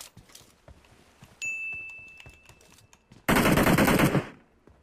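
PUBG Mobile gunfire: scattered light shots, then a loud sustained burst of rapid automatic fire lasting over a second before fading, with a metallic ring sounding briefly earlier.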